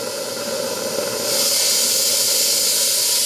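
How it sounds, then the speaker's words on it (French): Superheated steam vents from a restored boiler at about 2 bar with a steady, loud hiss that swells louder partway through and then holds constant, with no voices. "J'envoie de la vapeur."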